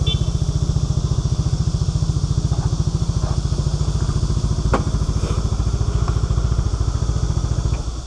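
A SYM 400cc big scooter engine idles nearby with a steady rapid thumping pulse, loud and close throughout, a few faint clicks on top.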